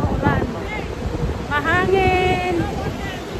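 Strong wind roars across the microphone beside the sea in Macau on a rainy day, a loud continuous rushing that persists while voices talk over it.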